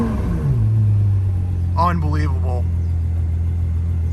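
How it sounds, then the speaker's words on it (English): A 2012 Ferrari FF engine cranks and fires up, settling into a loud, steady low idle rumble, with a person briefly speaking over it partway through. "So let's go ahead and start the Ferrari FF up."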